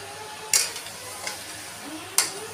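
Mutton fries in a pan with spices while being stirred. A soft sizzle runs underneath two sharp metallic clinks of a spoon against the pan.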